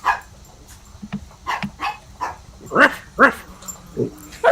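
Dogs, including small chihuahuas, give a series of short, sharp barks and yips at an uneven pace, close and loud, with a few softer whimpers between them.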